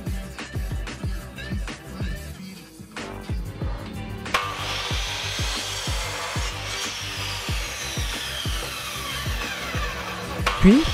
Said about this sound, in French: Ensuite, je découpe tous mes morceaux de bois pour le Lego.